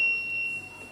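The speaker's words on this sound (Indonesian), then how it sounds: "Jadi ini sudah terdeteksi ground fail, alarm juga berbunyi" Ground fault alarm on a single-phase electrical test setup giving a steady, thin high-pitched electronic tone, faint and continuous, cutting off before the end over low room hum.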